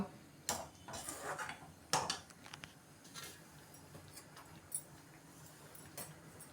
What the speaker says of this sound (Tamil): போட்டுட்டு நல்லா இது மாதிரி கிண்டி விட்டுக்கோங்க.